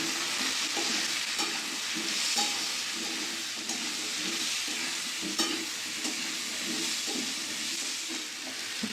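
Ground coriander, cumin, turmeric, Kashmiri chilli powder and split green chillies stir-fry in a pan for a chalkumro dish, a continuous moderate sizzle with repeated scraping stirs at a steady rhythm.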